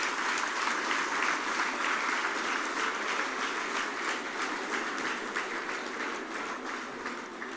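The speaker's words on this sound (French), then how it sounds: "Vous pouvez vraiment les applaudir." Sustained applause from a large audience at a French consulate Bastille Day speech in Rabat, a dense even clatter of clapping that fades slightly toward the end.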